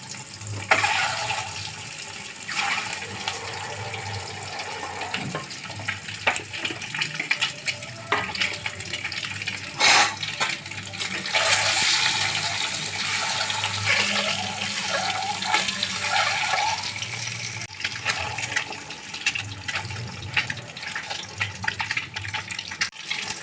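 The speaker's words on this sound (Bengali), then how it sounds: "তেল গরম হয়ে গেছে এবার ডিমগুলো ভেজে নেবো" Eggs frying in hot oil in a wok, a continuous sizzle and crackle with intermittent clatter and stirring scrapes, close and moderately loud, with no talk.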